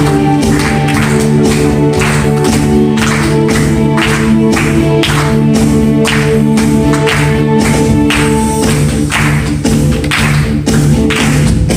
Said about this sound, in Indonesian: Boleh tepuk tangan saudara.